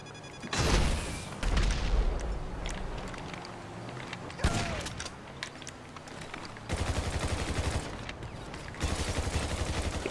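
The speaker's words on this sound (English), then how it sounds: "someone's shooting at me" Rapid bursts of gunfire in a GTA Online deathmatch against griefers, with loud volleys and scattered single shots across the whole span, some close and punchy, others more distant, mixed with game effects.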